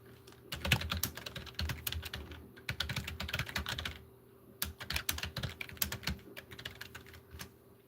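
Rapid clatter of computer keyboard typing in bursts, with a short pause midway, close and moderately loud with no voices.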